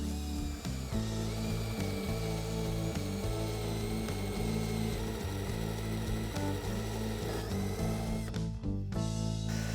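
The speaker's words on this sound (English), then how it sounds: "Next, I'm going to drill the hole for the dowel." Forstner bit boring a hole for a 1 1/8-inch dowel through wood, part of building a paper towel holder; a loud, steady drill whine and grinding runs almost the whole time, with a brief change near the end.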